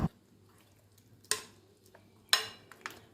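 A spoon stirs rava batter mixed with curd and cumin, giving a few separate wet scraping strokes against the bowl with quiet pauses between them.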